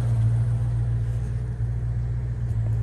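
A 1966 Ford Mustang engine holds a steady, throaty low rumble close by, idling rather than climbing through a rev, with no talking over it.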